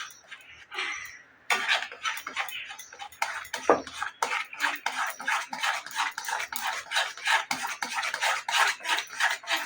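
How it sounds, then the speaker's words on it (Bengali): Semolina is mixed into milk with vigorous, rapid scraping and rubbing strokes against the bowl, a dense rhythmic scrubbing that speeds up and runs steadily, close and fairly loud. "এরপর আমি এর ভিতরে সুজির গুঁড়োটাকে দিয়ে দেব, দিয়ে ভালো করে মিশিয়ে নেব"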